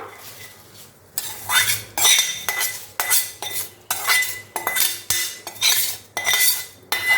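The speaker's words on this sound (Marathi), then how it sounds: "आता हे सर्व आपल्याला मिक्स करून घ्यायचं आहे" A spoon stirs and tosses a batch of thin-poha chivda in a metal pan, giving repeated loud scraping, clinking bursts in a steady rhythm with short pauses between strokes, close and without talk.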